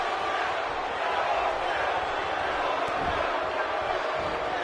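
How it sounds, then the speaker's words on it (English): An arena crowd in the WWE 2K18 wrestling video game roars in a dense, steady wash of chanting, loud and continuous throughout, with no clear breaks. "The crowd chanting, "End this match.""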